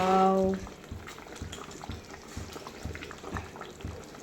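Rice and tomato for a pulao simmer in a pot with soft, steady bubbling and small popping blips. A brief tone sounds at the start, then the low boil goes on faintly alone.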